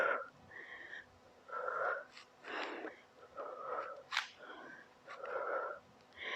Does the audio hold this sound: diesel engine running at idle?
no